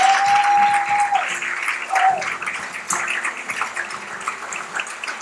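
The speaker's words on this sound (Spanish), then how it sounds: "Pido un fuerte aplauso para los novios," Wedding guests applaud the bride and groom with a loud, rushing wash of clapping that stays steady, with a brief tone near the start.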